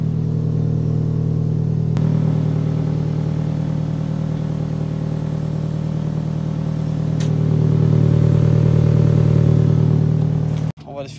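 Car engine with a blown muffler, a loud steady low rumble throughout with a brief swell in volume near the end before cutting off abruptly.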